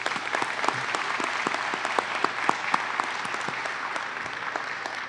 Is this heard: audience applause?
yes